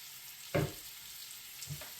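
Meat frying in a pan in a home kitchen, a steady faint sizzle running throughout with two brief louder bursts of clatter or stirring.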